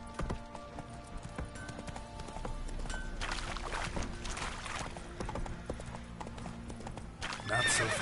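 Roach, Geralt's horse in The Witcher 3: Wild Hunt, gallops with steady rapid hoofbeats and whinnies loudly near the end, over game ambience and music while a voice speaks briefly.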